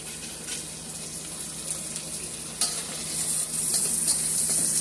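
Red snapper fish cooking in a pan gives a steady, close sizzle and crackle with a few sharper pops, building slightly louder toward the end, and no voices over it.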